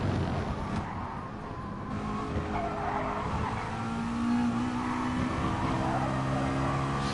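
A McLaren 650S race car in Gran Turismo Sport roars steadily at high revs with engine pitch rising and falling through corners, with faint tire squeal running through.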